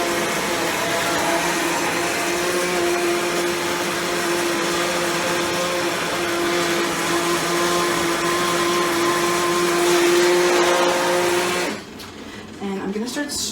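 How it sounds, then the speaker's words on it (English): A handheld immersion blender purees potato leek soup, whirring steadily and loudly for about eleven seconds, then cuts off, leaving faint room noise and a few soft sounds. "So we're gonna go in with our blender."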